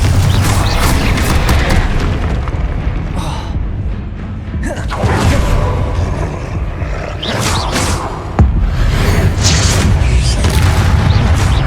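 Repeated booming spell blasts from combat in Hogwarts Legacy, the Confringo explosive spell firing among other spell effects, loud and dense with overlapping thuds and bursts throughout.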